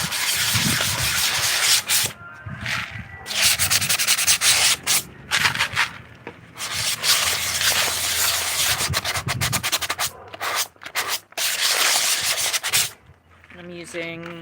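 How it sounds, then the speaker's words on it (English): A gourd being sanded with fine 180-grit sandpaper gives steady, close, loud scratchy rubbing strokes in long bursts separated by brief pauses, with no talking. "I'm using a really fine sandpaper to get it done."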